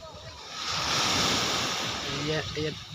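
Ocean waves break and wash near a shoreline in a steady, moderately loud surf rush mixed with wind noise, while a voice briefly speaks near the end.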